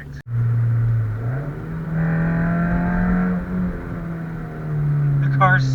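A Mazda2 with filled engine mounts drives along, its engine note rising and settling through revs over steady road noise, with a voice speaking over it near the end.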